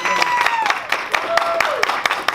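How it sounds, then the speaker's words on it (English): Audience applause at a city graduation event, a room of clapping hands running steadily throughout with scattered sharper claps, while a voice talks over it. "So one more round of applause for"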